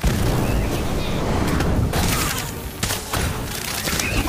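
The Incendio fire spell in the mobile game Harry Potter: Magic Awakened erupts in dense bursts of booming, crackling blasts that rumble continuously, briefly ease in the middle, then surge again with sharp impacts, while a voice calls out over the effects.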